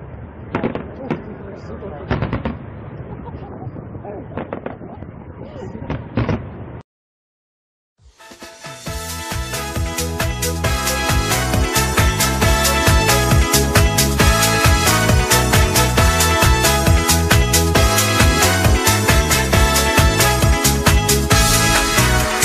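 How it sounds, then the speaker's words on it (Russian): Fireworks display for a birthday celebration bursts into a dense, loud barrage of crackling explosions and pops after a brief silence, following a stretch of talk and noise at the start. "А сейчас наслаждайтесь салютом."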